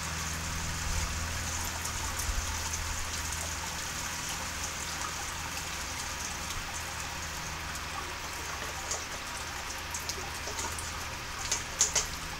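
Wort pours from a jug onto a grain bed in a Robobrew Brewzilla mash, a continuous close splashing trickle with steady level and a few brighter drips near the end.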